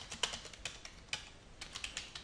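Rapid, uneven keystrokes on a computer keyboard while entering narrative text into farm nutrient management software, close and fairly quiet, with no talking.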